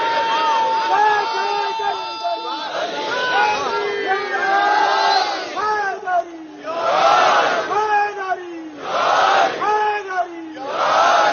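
A massed congregation at a gathering addressed by Allama Talib Johri roars the Haidari slogan in rhythmic call-and-response waves, loud close shouted bursts separated by short lulls, repeating several times.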